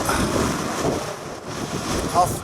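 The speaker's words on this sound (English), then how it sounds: "it's freezing out here, cold wind" Cold wind gusting across a wet, misty wild camp at night, a steady broad rush with buffeting against the microphone that swells and fades throughout, loud and close.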